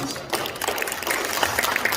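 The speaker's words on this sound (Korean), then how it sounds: "여러분 박수 한번 해주시면 좋겠습니다" Audience applause at a church memorial service for the 102nd anniversary of the March 1st Movement, welcoming an honored guest: a steady, dense patter of many hands, moderately loud and continuous for about two seconds.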